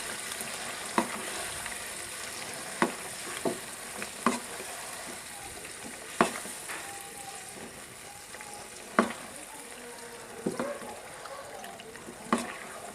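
Chicken gravy masala with white cumin being stirred in a hot pan, with a steady soft sizzle and a series of sharp scraping clacks of the spoon against the pan at irregular intervals.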